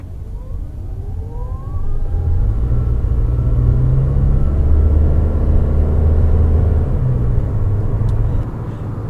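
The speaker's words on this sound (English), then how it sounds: "the electric motor kind of whirl, and then the engine kicked on once we got to a certain speed" A 2021 Toyota Venza Hybrid accelerating from inside the cabin, a rising electric motor whine over road rumble, then the petrol engine kicks in with a fuller, steady drone at speed.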